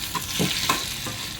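Ivy gourd instant pickle being stirred in a pan, a few soft scraping strokes over a low sizzle, close and alone.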